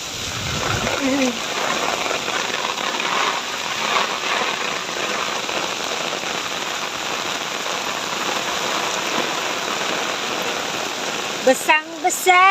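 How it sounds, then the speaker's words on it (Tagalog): Heavy afternoon rain pours steadily onto surfaces outdoors, a loud dense continuous hiss and patter, with brief voices and a sharp noise near the end. "Lumakas yung ulan, guys."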